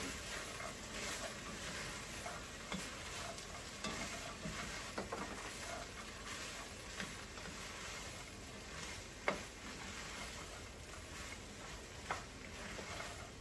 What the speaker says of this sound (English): Okay, give that a little bit of a stir.